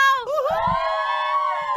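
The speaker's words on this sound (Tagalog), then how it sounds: "isang malakas na hiyaw!" Crowd of Cavite State University students letting out a loud, sustained cheer and shout, a rising chorus of voices that swells and holds for a couple of seconds.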